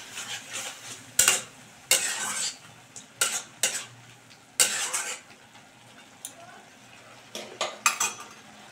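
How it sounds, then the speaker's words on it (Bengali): A spoon stirs sugar into a cabbage sauce in a pan, making scraping, clinking strokes in irregular bursts over a soft sizzle, fairly close, with no talking. "দিয়ে এবার থেকে মিশিয়ে দিচ্ছি"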